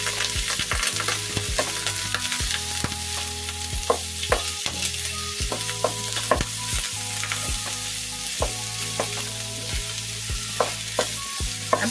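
Half a kilo of ground pork sizzles steadily in a pan, with repeated sharp scrapes and knocks of a spatula stirring it at a fairly even rhythm, loud and close, with no talking.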